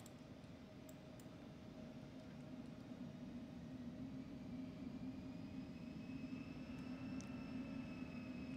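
Embraer E195 airliner in the X-Plane 12 flight simulator spooling up for takeoff, a steady loud jet engine roar with a constant whine that builds slightly over time, with no talk.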